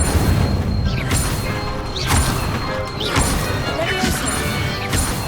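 Incendio fire spell cast repeatedly in Hogwarts Legacy, a series of loud whooshing, crashing bursts about a second apart over a dense roar, with a voice murmuring beneath the effects.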